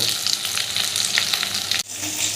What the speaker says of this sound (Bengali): গ্যাসের ফ্লেমটা কমিয়ে একটু উল্টে পাল্টে লাল লাল করে ভেজে নেব